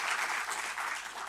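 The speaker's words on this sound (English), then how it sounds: "Let's give MTN Foundation a round of applause" Brief burst of audience applause at a ministerial announcement of national exam results, steady and moderately distant for about a second.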